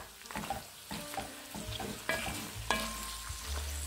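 Vegetables for plov fry hard in a pot, sizzling loudly and continuously up close with repeated scraping stirs and a low hum underneath.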